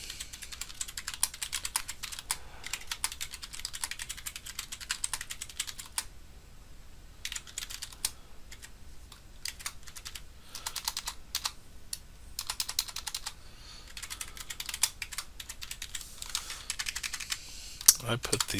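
Steady typing on a computer keyboard while writing a product description for an Etsy shop listing, a continuous run of close, quiet key clicks with brief pauses and no talking.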